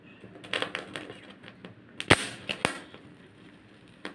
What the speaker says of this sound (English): this is what we call a potassium permanganate solution with H2SO4, manganese heptoxide. And now a tremendous amount of explosion.